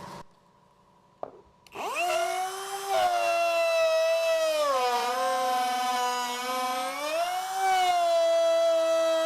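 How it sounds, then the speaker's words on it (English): A wood router cuts a juice groove into a cutting board, spinning up after a quiet start into a loud, steady high-pitched whine that dips and rises slightly in pitch as the bit moves through the wood. "adjust your router down a little bit more and give it another go"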